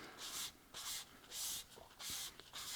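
Yorkshire Grit abrasive paste is rubbed onto a wooden piece with the lathe switched off, giving about five faint, soft scraping strokes in a steady back-and-forth rhythm.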